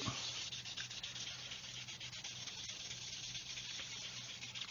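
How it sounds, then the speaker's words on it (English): A steady, soft scratchy rubbing of fine wet sanding with a sanding stick on a plastic Saturn V model kit seam continues close by, even and unbroken, with no voices. "get an even finer sanding stick like this one here, and using it wet"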